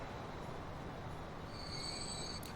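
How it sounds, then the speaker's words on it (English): Trains in the Transport Fever rail game rolling along a busy line, a steady dense rumble with high wheel squeal rising in the second half and a bright burst near the end. "So here comes the next train."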